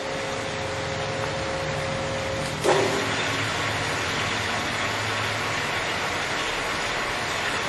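Birmingham 13 x 40 lathe on 220-volt three-phase power with a two-speed motor, a steady mechanical whir and hum running throughout, with a short sharp clunk partway through as the drone carries on unchanged.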